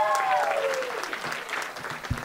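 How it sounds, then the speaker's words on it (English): Audience applause at a cabaret night, a full round of clapping with a brief whoop at the start and murmuring voices mixed in. "let's give a round of applause for that"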